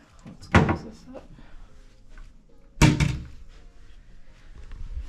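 Two loud thunks from drawers being pushed shut in a hotel room, about two seconds apart, with quiet room noise between them.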